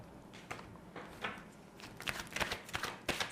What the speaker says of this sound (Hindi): थोड़े से और कार्ड्स निकाल लेती हूँ मैं